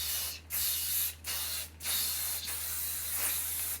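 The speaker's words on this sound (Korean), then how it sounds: "저는 꼭 액체형 스프레이를 해주거든요." Liquid hair spray from a pump bottle mists onto a man's styled hair in several loud, close, steady hissing bursts separated by brief pauses, with no talking.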